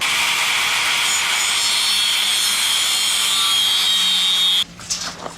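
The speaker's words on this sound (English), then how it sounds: "We've got our pieces of bamboo, just need to mark and cut them now." A power tool cuts through pieces of bamboo with a loud, continuous rasping whine that lasts several seconds, then stops abruptly, leaving a few light knocks.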